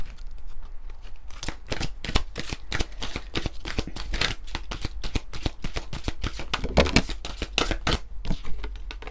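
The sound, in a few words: shuffling oracle cards of the intuitive soul deck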